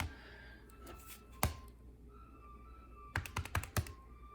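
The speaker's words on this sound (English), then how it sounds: "when you type this in your calculator" Fingers tap out a calculation on calculator keys, a quiet scatter of sharp clicks: a few isolated presses early, then a quick burst of five or six taps close together.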